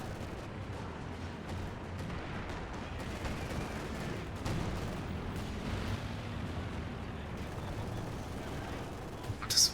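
Distant, fairly faint explosions and artillery fire in a strategy video game, a steady rumbling barrage of thuds and booms with scattered shots under a commentator's talk.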